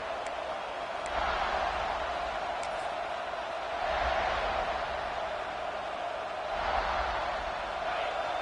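A stadium crowd in a college football video game swells in waves of broad roaring noise, rising and falling several times against a constant wash of ambient crowd sound.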